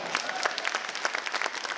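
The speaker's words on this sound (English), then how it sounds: "You can clap for that." A crowd at a high school fall sports banquet gives a short burst of clapping, brisk and evenly sustained, heard from the room at moderate volume.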